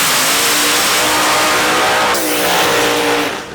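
A drag racing car at a street-class event screams at full throttle with a loud, rising engine howl, then the pitch drops sharply as the driver lifts off the throttle and the sound fades.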